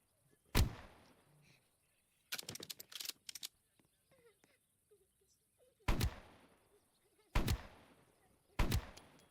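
Video game gunfire in 99 Nights in the Forest: loud, sharp single shots spaced a second or more apart, plus a quick burst of several rapid shots, with quiet gaps and a faint voice between them.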